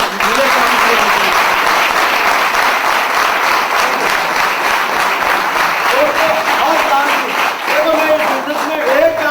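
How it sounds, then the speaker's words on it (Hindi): Loud, sustained applause from a large audience at a business seminar, dense and continuous throughout with voices audible beneath the clapping. "एक जोरदार ताली।"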